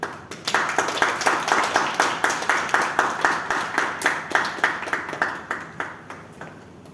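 An audience applauds a speaker at a club meeting, steady rhythmic clapping from a modest crowd with a regular pulse of hand claps, fairly close and without voices on top.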